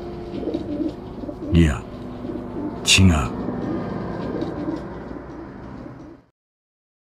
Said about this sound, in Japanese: 鳩がこちらに近づいてくる鳴き声だけが